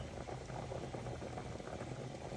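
A pot of water comes to a rolling boil for corn on the cob, a steady, close bubbling and hissing rumble that churns continuously with no voices.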